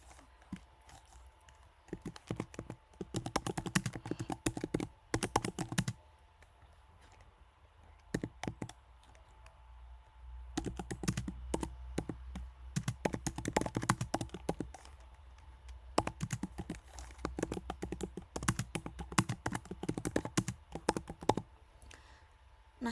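Keys clatter on a computer keyboard in close, quick bursts of clicking separated by short pauses, with no talk over them.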